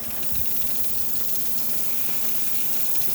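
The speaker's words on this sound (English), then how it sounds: "And as you can see, steam coming out well." Steam hisses steadily from the steam wand of a Breville BES870XL espresso machine after a descale and full tune-up, a constant loud, breathy rush that holds for the whole stretch.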